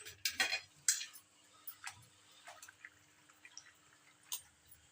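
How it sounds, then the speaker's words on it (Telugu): Gongura leaves being washed in water in a home kitchen, with scattered drips and light splashes and a few soft clinks against a vessel, close and fairly quiet with pauses between. "దీన్ని వాటర్లో పెట్టి నీట్గా వాష్ చేసుకుందాము"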